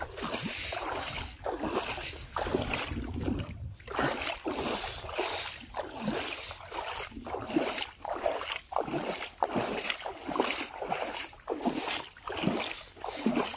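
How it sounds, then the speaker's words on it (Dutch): Rushing water flows continuously and loudly, with rhythmic splashing surges as people wade through a fast-flowing stream. "Het water stroomt wel snel."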